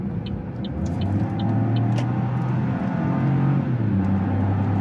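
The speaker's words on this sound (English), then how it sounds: "I love the way the 3-cylinder sounds" A 2024 Buick Envista ST's three-cylinder engine hums and pulls steadily at low pitch, its drone rising and holding as it accelerates, with a faint rattle and high ticks over it.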